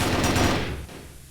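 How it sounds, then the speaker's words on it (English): Rapid automatic gunfire laying down suppressive fire in the video game Warzone, a dense loud burst that fades out over about a second. "Jinhai with 82 HP doing suppressive fire, throwing a grenade."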